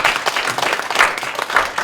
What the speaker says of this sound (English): can we give a round of applause to the Rinpoche one last time?